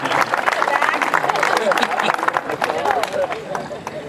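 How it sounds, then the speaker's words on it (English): Audience applause at a high school groundbreaking ceremony, steady dense clapping from a crowd throughout, with a faint murmur of voices mixed in. "Give her a round of applause."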